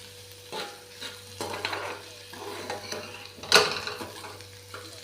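Onions fry in a pan until brown, giving a soft sizzle broken by several scraping stirs and one sharper clink of utensil against metal, close by.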